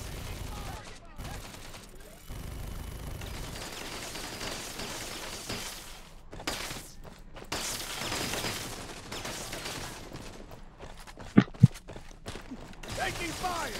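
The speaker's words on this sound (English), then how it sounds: "Our turret in action." Vehicle turret fire in the Modern Strike video game comes as bursts of rapid shots mixed with mechanical clatter, with two sharp loud cracks near the end over dense ongoing game noise.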